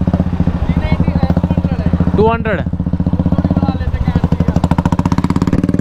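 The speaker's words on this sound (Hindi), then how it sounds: "भाई, बाइक की आप साउंड सुन सकते हो भाई" A Royal Enfield Bullet or KTM motorcycle engine thumps close by in a steady, even pulse, with a voice cutting in briefly.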